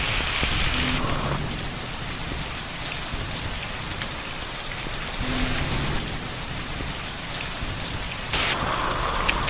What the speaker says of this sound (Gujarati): કમોસમી વરસાદ ધોધમાર રીતે પડી રહ્યો છે